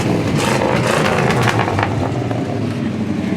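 A 1985 Chevy Silverado 4x4 with dual exhaust, engine running close by with a throaty rumble and a few quick revs in the first half, then settling to a steady idle.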